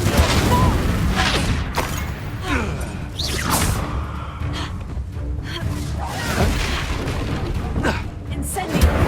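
Confringo explosion spells in Hogwarts Legacy, a series of loud booming blasts and whooshes in a busy combat mix, with a voice speaking through it.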